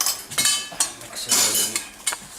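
Fish being mixed by hand or with a utensil after lime juice, turmeric and salt go on, giving a few close clinks and scrapes against a dish in short irregular bursts.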